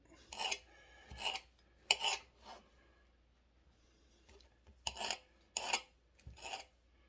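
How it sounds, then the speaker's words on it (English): A kitchen knife slices St George's mushrooms into fine, thin pieces, giving a run of close, crisp rasping cuts in two bursts separated by a short pause, with no talking. "Make those nice fine little slices."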